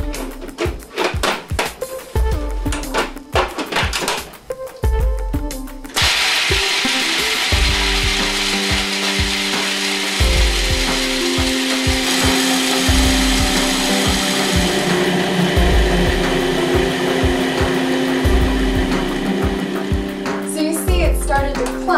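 A food processor grinds nuts into homemade Nutella, a loud, steady whirring drone that holds for about fifteen seconds after a stretch of choppier starting noise with some talking.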